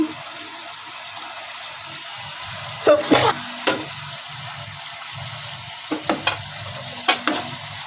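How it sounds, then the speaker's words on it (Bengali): Pangas fish frying in a pan for a village-style bhuna curry after a splash of water is added, a low steady sizzle broken by a few sharp clatters and stirring knocks around the middle and end. "আমার মাছটা এখন ভাজা হোক গুনা গুনা হোক"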